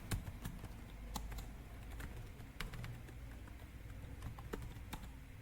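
Rapid quiet typing on a computer keyboard, entering an email address, with soft irregular key clicks over a steady background hum.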